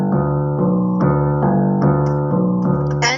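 A double bass bows a low, sustained line of connected notes, deep and warm, played up close and alone.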